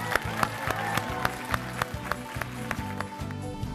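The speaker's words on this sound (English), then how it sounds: "Can we give them a big round of applause?" An audience applauding Kevin Lima and Brenda Chapman, heard as a mix of distinct, irregular claps and a busy background of crowd noise at moderate loudness.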